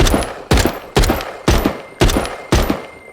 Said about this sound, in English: Burst fire, but this is what I would recommend you use it in, because this gives you the best accuracy